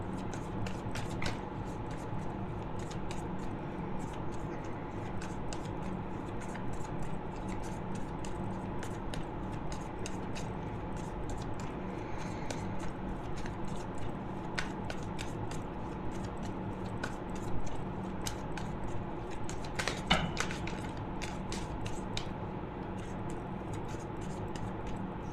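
Tarot cards being shuffled by hand in a quiet room: soft, continuous papery riffling and scratchy card friction over steady low background hum, with a few sharper ticks and flicks near the end, no talking.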